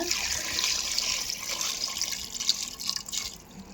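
Water is poured steadily into a pressure cooker for mutton paya, a continuous close splashing stream with a few brighter drips near the end.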